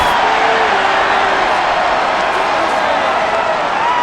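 Loud, dense stadium crowd roar from a simulated Bengals versus Chiefs football game in Madden NFL 24, a steady unbroken wall of cheering and murmur that holds at full level throughout, with faint whistling tones drifting through it.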